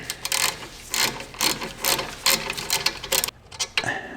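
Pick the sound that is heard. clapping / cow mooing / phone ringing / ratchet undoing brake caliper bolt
ratchet undoing brake caliper bolt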